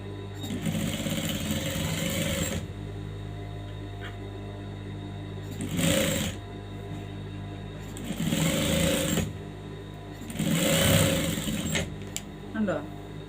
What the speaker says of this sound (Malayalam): എന്നിട്ട് നമ്മളിവിടെ ഇതിനെ എഡ്ജിൽ കൂടെ സ്റ്റിച്ച് ചെയ്ത് കൊടുക്കുക.